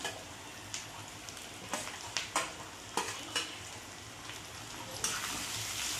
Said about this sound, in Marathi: आता ही परतवत असताना ह्याच्यामध्ये आपल्याला एक टॅमॅटो टाकायचं आहे